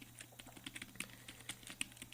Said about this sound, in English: They say that the keyboard is very soft feel, and yes it is.